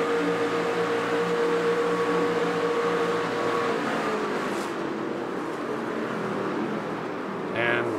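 NASCAR trucks race at Daytona in iRacing: a constant whining engine drone runs throughout, with a steady tonal note that fades midway and a brief sharp burst near the end.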